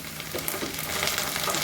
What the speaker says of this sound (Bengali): পেঁয়াজটা আমার অর্ধেক ভাজা হয়ে গেছে